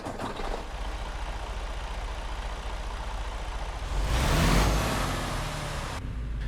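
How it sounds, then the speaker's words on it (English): A Freightliner Cascadia truck engine in American Truck Simulator turns over and rumbles, swelling into a louder, deeper surge near the end before cutting off abruptly, heard alone at close range. "let's get the Freightliner Cascadia started up and get going."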